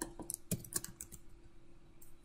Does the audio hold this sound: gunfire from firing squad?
no